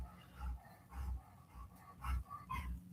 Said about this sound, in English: Don't go from panting to barking and whining and panicking over there.